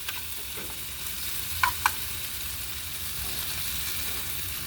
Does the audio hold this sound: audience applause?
no